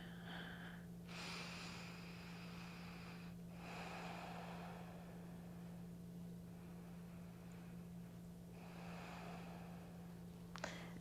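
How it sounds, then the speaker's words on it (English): Slow, deep breaths drawn in and let out through the nose during a gentle beginner yoga twist, several soft airy inhale-exhale cycles, close and quiet over a low steady hum. "Let's take 2 deep breaths in this twist."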